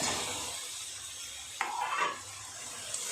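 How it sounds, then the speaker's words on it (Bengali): Fried potatoes go into a pan of well-cooked spice masala, with a dense sizzle throughout and a brief clatter of a spoon or spatula stirring them in partway through. "এর মধ্যে আলুগুলোকে দিয়ে দেবে ভেজে রাখা আলু"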